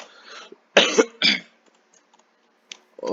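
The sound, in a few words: cough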